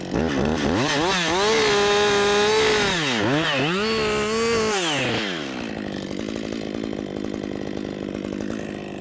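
A chainsaw cuts into a standing tree during felling. The engine revs loud and close with rising and falling pitch as the bar bites, then settles into a steady lower drone while cutting on.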